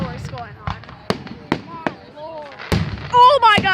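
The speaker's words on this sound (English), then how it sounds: "there's fireworks going on right now" Fireworks pop and crackle in a series of sharp bursts spread across the moment, some distant thuds and brighter bangs, with people talking and exclaiming between them.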